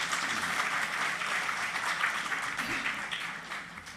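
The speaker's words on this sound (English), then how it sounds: "I think she needs a thunderous applause for 200." Loud, sustained applause from a crowded hall at a national campus quiz final, with dense clapping continuing throughout and fading slightly toward the end.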